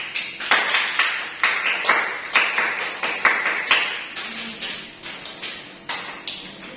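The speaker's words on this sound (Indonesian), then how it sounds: "Kita beri tepuk tangan." A classroom group claps together in a steady rhythmic pattern, with sharp, evenly spaced bursts repeating for several seconds at close range.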